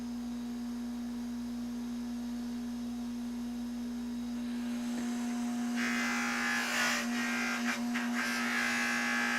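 An electric polisher with white compound buffs a Honda motorcycle part during a restoration, humming as a steady, fairly faint whine that turns into a brighter, rougher buffing hiss in the second half.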